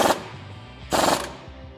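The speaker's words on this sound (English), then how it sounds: "let's tighten up the bottom nut here with a 15-16 socket" Ratcheting bursts from tightening the bottom nut with a 15/16 socket while installing a front leveling kit on a 2004-2020 Ford F150, two short loud rattling runs separated by a pause, close and alone.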